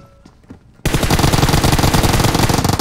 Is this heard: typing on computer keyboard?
no